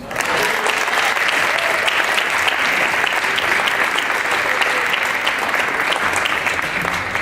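A large audience at an MLK breakfast event in Hamtramck gives dense, loud, sustained applause that runs steadily through the whole stretch.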